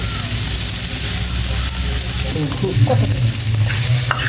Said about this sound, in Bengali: এটা নেড়ে ফেড়ে একটু ভেজে নেব